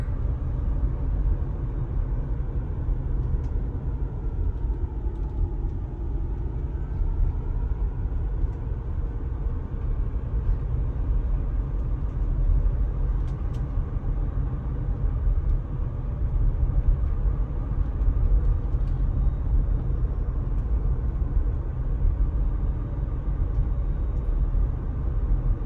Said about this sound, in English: Still on autopilot, driving along.